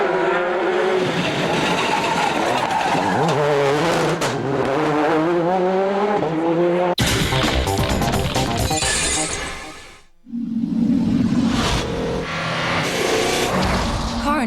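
Subaru WRX rally car at speed on a Monte Carlo Rally stage in 2002, engine note rising and falling through gear changes, loud and close, with abrupt shifts in the recording and a brief near-silent gap before the engine returns.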